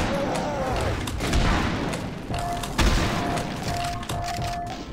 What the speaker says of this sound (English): Where are those grenades coming from?